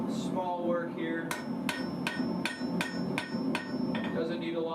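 A hammer strikes a thick piece of 1080 or 1070 steel at a forge, with seven sharp ringing blows in a steady rhythm. The blows are close and loud over a low background hum.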